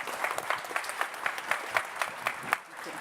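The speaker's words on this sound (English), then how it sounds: "Can we have a round of applause for my panelists" Audience applause for conference panelists at a tech and AI event, a short burst of steady clapping from a modest crowd that fades out near the end.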